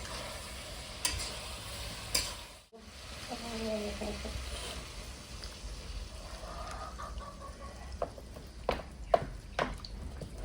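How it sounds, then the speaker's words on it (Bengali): Cauliflower and potato pieces are stirred through gravy in a pan with scattered scraping taps over a faint, low sizzle, while a rooster or hen clucks in the background. "কপি আর আলু দিয়ে দেবো একসঙ্গে ভালো করে কষে নেবো গ্রেভির সঙ্গে"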